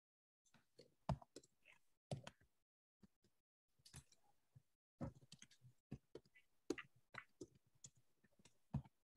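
Sparse, quiet clicks of typing on a computer keyboard during a board of directors meeting, coming in irregular short bursts separated by silence.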